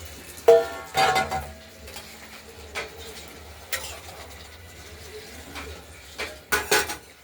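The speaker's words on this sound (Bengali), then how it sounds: "ভেজে রাখা মাছগুলো দিয়ে ঢাকনা দিয়ে দেবো" Lid and pot clank in a few sharp metallic knocks, with fried rohu fish pieces going into a pot of watery curry with potatoes, beans and tomato. Short clatters sit apart over quiet kitchen background.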